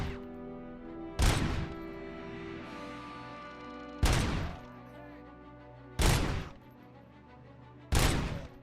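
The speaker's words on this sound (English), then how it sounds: "those are double machine guns" Double machine guns in RoboCop: Rogue City fire in four heavy, widely spaced bursts, each a loud sharp crack with a short decaying tail over a low humming game background.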